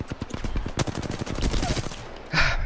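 Automatic gunfire in the video game Apex Legends, a fast rattling string of shots close and loud, ending with a sharper burst of noise.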